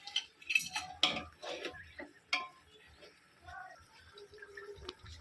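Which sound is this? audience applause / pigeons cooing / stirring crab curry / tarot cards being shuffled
stirring crab curry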